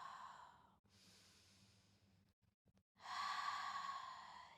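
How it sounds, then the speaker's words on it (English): Slow, deep breathing during a hip mobility and flexibility workout, a long soft inhale followed by a fuller, louder exhale, close to the listener with no talking. "Breathe in and exhale."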